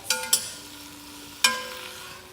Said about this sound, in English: We're going to be stirring occasionally until it gets nice and brown